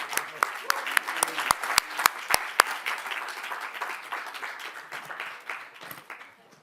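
Audience at a Cannes 2025 press conference applauds the guests, starting with a few sharp separate claps that swell into dense, fairly close applause, with voices mixed in before it fades out.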